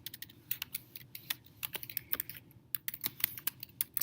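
Rapid typing on a computer keyboard sounds as sharp, irregular clicks and clatters in quick bursts, close and fairly quiet, with no talking.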